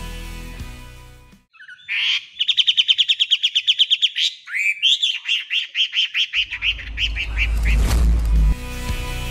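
A Wambi, a Poksay-type songbird kept for its song, delivers a rapid series of clear, repeated whistled notes in two bursts, close and loud, followed by rustling noise.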